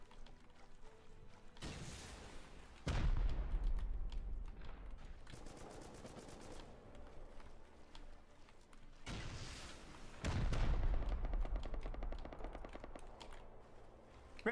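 Gunfire in the video game Rust, heard as two separate loud bursts of rapid automatic fire, each trailing off into a noisy tail, with quieter gaps between the bursts.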